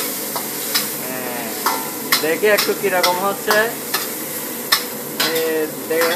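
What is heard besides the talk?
stirring chicken karahi cooking in a pan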